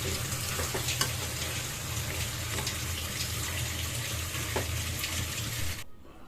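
Pulao cooks in a small pot with a continuous close sizzle and bubbling that stops abruptly near the end.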